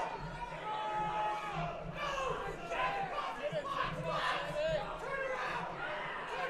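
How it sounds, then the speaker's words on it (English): A loud home crowd at a fight shouts and cheers continuously, voices rising and falling in excited waves throughout. "the home crowd imploring Sami to pour it on"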